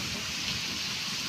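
Heavy monsoon rain falls outside as a dense, steady hiss of water, loud and continuous, with no talk.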